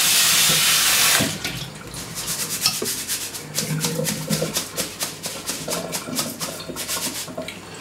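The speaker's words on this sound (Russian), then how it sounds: "Все, рис промыли" Rice being rinsed in a colander under a running kitchen tap: a loud gush of water at first, then steady splashing and rubbing of grains as the stream hits the rice. No voices.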